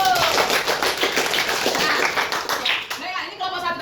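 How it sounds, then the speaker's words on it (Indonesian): A primary classroom of fourth-graders clapping for a group that has just presented on tahajud prayer, quick scattered claps mixed with children's chatter and a teacher's voice, fairly close and lively throughout. "Oke, kasih tepuk tangan kelompok 1."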